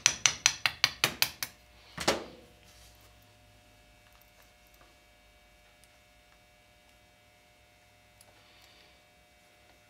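A pin is knocked out of an ADC .25 ACP pen gun with a small piece of plastic: seven quick, evenly spaced sharp taps, then one heavier strike, followed by faint bench hum.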